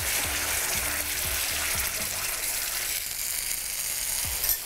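Spiced Indian potatoes sizzle loudly in a hot pan as vinegar goes in, a steady hiss with several soft scraping stirs in the first seconds and no talking.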